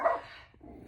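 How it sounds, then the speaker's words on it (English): A small dog barks once at a passing car, a single sharp bark at moderate distance, followed by quiet. "No, she's barking at a car. That's my little dog."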